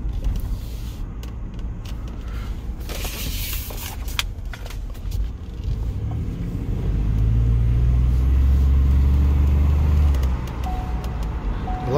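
A Ford Expedition MAX engine, thought to be a V8, rumbles steadily from inside the cabin, swelling into a louder, deeper revving surge midway before easing back to a cruising drone.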